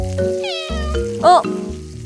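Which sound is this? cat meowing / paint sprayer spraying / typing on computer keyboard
cat meowing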